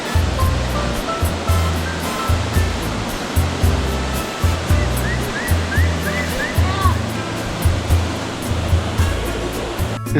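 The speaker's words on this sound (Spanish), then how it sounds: "podrás apreciar la caída de agua que se conserva intacta a la mano del hombre" A loud, continuous roar of falling water from a waterfall at Tetela del Volcán, Morelos, fed by volcanic snowmelt, fills the scene close up, with a repeating low rumble and faint birdsong over it.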